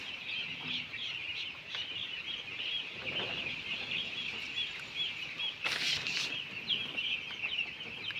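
Young chicks on a poultry farm, kept warm under bulbs on a cool day, chirp in a dense continuous chorus, with a brief burst of wing flapping partway through.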